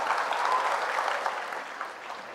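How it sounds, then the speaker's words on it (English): An audience of students and adults applauds at a school junior assembly for a public speaking competition, a full, steady wash of clapping that begins strong and slowly thins toward the end. "let's just give a big round of applause"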